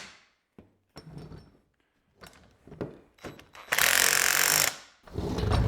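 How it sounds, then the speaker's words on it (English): An impact wrench tightens the bolts of a Harbor Freight motorcycle wheel vise, with a few short knocks and clatters of handling before one loud, sustained buzzing burst and a second burst starting at the end. "let's tighten these up"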